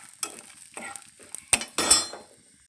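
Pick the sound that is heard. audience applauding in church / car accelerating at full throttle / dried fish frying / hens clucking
dried fish frying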